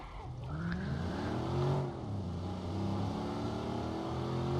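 A Ford Mustang engine revs and roars continuously in the video game Watch Dogs, rising and dipping in pitch as it accelerates, loud and close.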